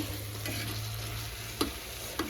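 Spicy vangi bath is stirred in a frying pan, giving a quiet, steady sizzle with a low hum beneath and a couple of sharp scrapes or taps of the spoon against the pan, with no voices.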